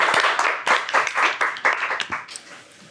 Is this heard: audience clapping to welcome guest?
yes